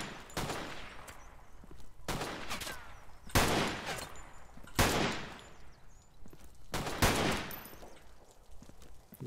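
SVD rifle firing in the video game Zero Sievert, four loud sharp shots spaced roughly two seconds apart, each followed by a decaying echo over a low ambient bed.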